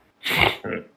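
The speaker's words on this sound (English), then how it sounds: "Really hoping that was the in-character sneezing." A game character sneezes once, a sharp close burst followed by a shorter second gust of breath, standing alone with no talk over it.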